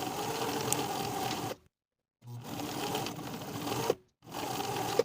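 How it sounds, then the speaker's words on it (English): A sewing machine stitches the side edges of an evening dress with a half-inch seam allowance, running in three steady bursts separated by short pauses, close and clear with no talking. "We're going to sew both of the side edges from the top fold with a 1/2 inch seam allowance"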